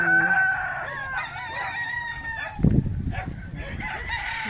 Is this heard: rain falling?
no